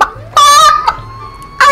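Short bursts of loud, close clucking from a character imitating a chicken in GTA 5, three separate calls with brief pauses between them.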